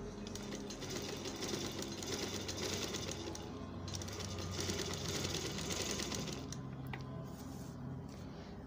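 A large industrial sewing machine runs steadily and stitches without pause, a close, continuous mechanical whir with rapid needle clatter that holds constant throughout.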